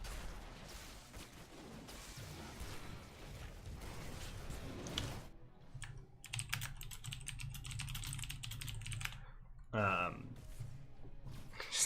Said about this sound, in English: Just typing in chat, sorry.